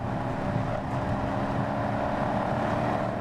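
Dodge Charger SRT four-door muscle car accelerating hard to pass on the freeway, a steady loud engine drone with road and wind roar, sustained and close throughout with no talking.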